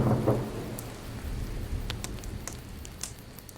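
Steady rain falls on surfaces with rumbling thunder opening the scene, followed by a continuous wash of rainfall and scattered crackles, fairly quiet and without voices.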